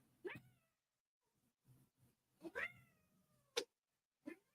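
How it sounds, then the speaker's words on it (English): An angry cat covered in acrylic paint meows and yowls in several drawn-out, rising cries, close and fairly quiet, with short pauses and soft shuffling between calls. "she is an angry little cat"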